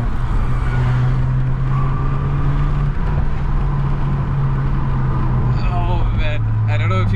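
A tuned Skoda Octavia vRS with an upgraded engine drones steadily from inside the cabin while driving, a low, sustained engine hum that shifts pitch slightly, with people talking over it throughout.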